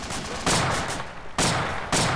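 Heavy autocannon fire in a military shooter game: a steady, loud stream of rapid booming shots with three sharper, stronger blasts standing out, continuous and unbroken throughout.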